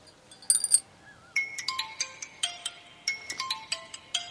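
A mobile phone ringtone plays a bright, repeating electronic melody in short phrases, fairly close and clear, inside a village house.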